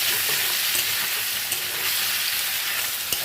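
Cumin powder fries in a hot pan while being stirred, a loud, continuous sizzle broken by scraping strokes and soft knocks of the utensil against the pan.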